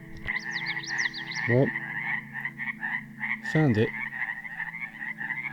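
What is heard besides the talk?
frogs croaking in a swamp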